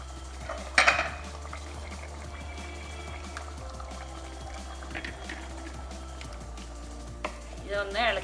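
A spoon clinks and scrapes against a pot while chicken curry with roasted ground coconut is stirred, a couple of sharper metallic knocks over a low, steady background hum.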